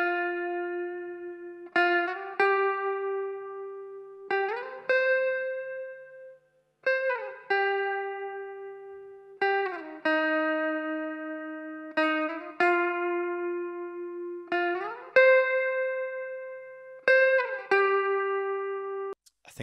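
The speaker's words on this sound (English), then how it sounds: "I added this lead guitar sound." An electric lead guitar plays sustained notes and slides, each phrase shimmering with chorus and trailing off into reverb, with no voices.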